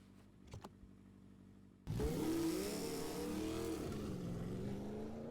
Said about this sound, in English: The taillights and engine sounds faded into the night.